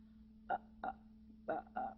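A group of singers at a vocal jazz clinic makes short burp-like throat sounds, four quick croaks in an uneven rhythm, quiet over a low steady hum.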